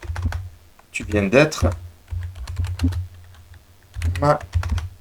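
Computer keyboard keys clatter in quick bursts while Python code is typed, with someone speaking over much of the typing and brief pauses between runs of keystrokes.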